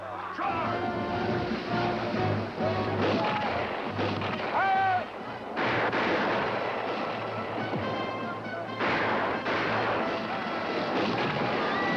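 Musket volleys and artillery fire in a Revolutionary War–era video game battle near a swamp, dense rumbling blasts layered with sharp reports and crackle, sustained and loud throughout with brief lulls.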